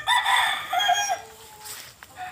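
A street comb bulik rooster crows once up close, the loud drawn-out call breaking into a falling tail, with faint clucking at the end.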